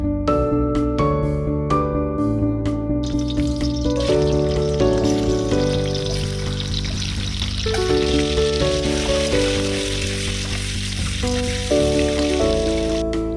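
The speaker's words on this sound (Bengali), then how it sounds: "প্রথমে ডিমগুলি ভালো করে ভেজে নিবে।" Eggs fry in hot oil in a pan for an egg curry, a steady crackling sizzle that strengthens after the opening seconds and runs continuously beneath loud background music.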